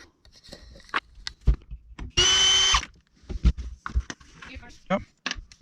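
A handheld power drill runs in one steady burst of under a second, loud and close, between stretches of conversation during a home job fitting bedside shelves and light switches.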